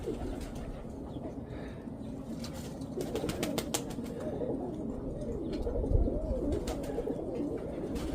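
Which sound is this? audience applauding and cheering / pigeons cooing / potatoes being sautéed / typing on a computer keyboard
pigeons cooing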